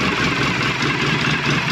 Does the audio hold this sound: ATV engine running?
yes